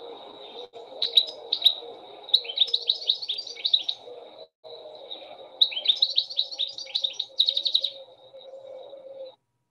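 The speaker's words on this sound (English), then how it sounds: "Goldfinch is a lovely sort of jingling sound, really happy, beautiful sound" Goldfinch song: bright, jingling twittering phrases in two bursts, close and clear, over a soft low background hum.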